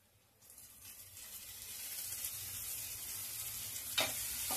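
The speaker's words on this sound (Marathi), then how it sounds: "या टोमॅटोला पण चांगलं फ्राय करून घेते।" Onion and tomato frying in oil for prawn masala give a soft sizzle that builds steadily after a quiet start, with a sharper crackle burst near the end and no talk.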